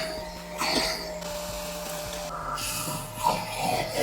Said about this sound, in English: It is a no-loss suction wet and dry vacuum